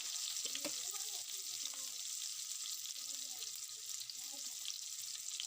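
Onions are frying in rendered pork fat with a soft, steady sizzle at low volume, broken by faint scrapes of stirring.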